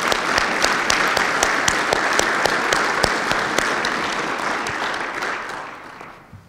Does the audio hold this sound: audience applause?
yes